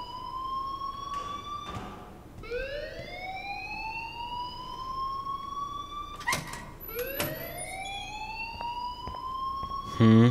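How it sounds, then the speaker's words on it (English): An alarm in the video game Life is Strange wails in repeated rising sweeps, several whooping siren-like tones in sequence, steady and moderately loud with brief clatters between cycles. "please turn off that alarm"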